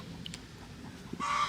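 Chickens in a backyard give a few soft, low clucks, faint and brief against quiet outdoor background noise.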